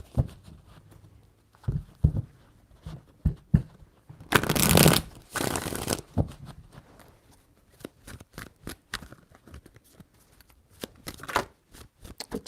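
Tarot cards being shuffled by hand in a series of crisp riffles and taps, with one long, loud riffle in the middle, close and alone without speech.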